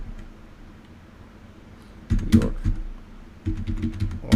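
Computer keyboard typing in quick bursts of clicks, quiet at first and then louder clattering runs, close by with no talk over it.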